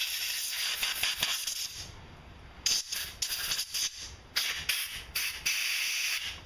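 Repeated bursts of air hissing from a primer bulb pressed on a Briggs and Stratton 3.5 hp Pulsa lawn mower carburetor, close and fairly loud, with a steady hiss and several sharp separate puffs in the second half.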